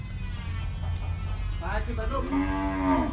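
Cows moo loudly and close by as cattle, including cow-and-calf pairs, are loaded onto a truck for transport, with long drawn-out calls over a low background rumble.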